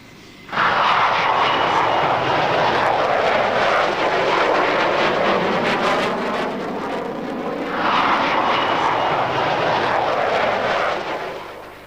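A McDonnell Douglas F-4 Phantom jet, as flown by the US Marine Corps, roars loudly and continuously, the engine noise swelling and easing in two broad passes.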